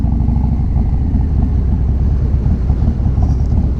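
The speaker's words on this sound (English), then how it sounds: "I don't mind this exhaust" A 2020 Harley-Davidson Low Rider S with a 2-into-1 exhaust, a close, loud and steady low rumble from the engine and exhaust while riding, with no talking.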